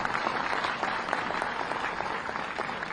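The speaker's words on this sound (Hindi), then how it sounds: "करतल ध्वनि रुकनी नहीं चाहिए। जोरदार ताली।" A crowd at a Chhattisgarh appointment letter event applauds, with steady, dense clapping that carries on evenly from start to finish.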